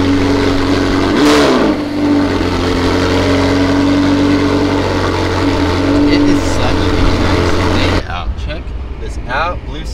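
A McLaren supercar with a 760-horsepower engine and sport exhaust runs with a loud, steady engine drone and a sharp rev burst near the start, and a person talks over it throughout.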